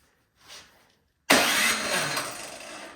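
A snowblower engine with its spark plug removed and grounded for a spark test gets a short tug, then cranks over loudly and steadily for almost two seconds, close up and alone.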